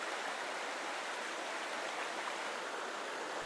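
Lost Cove Creek, a small mountain stream in the Great Smoky Mountains, North Carolina, rushes in a steady, even wash of water, close and continuous, with no voices present.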